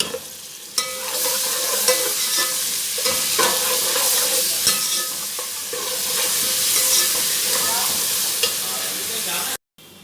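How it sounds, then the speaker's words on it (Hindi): Ginger garlic paste fries with onions in a pan for a daal, giving a bright, constant sizzle with scraping stirs and occasional clinks of a spoon, close and loud throughout before a brief cutoff. "अदरक लहसुन का पेस्ट फ्राई करके इसमें जाएंगे मसाले।"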